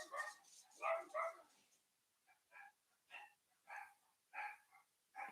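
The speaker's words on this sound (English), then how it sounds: "The dogs bark at the cats, the neighbors, the people walking by, the color of the sky, anything, whatever." Dogs barking at home, a series of sharp, fairly distant barks in an uneven rhythm, a few close together at first and then spaced out singly, with quiet gaps between.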